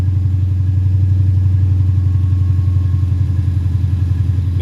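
A car engine idles roughly just after an exhaust repair, with a steady low, uneven throb and a faint clatter. It runs close and loud and continuous, with no talk.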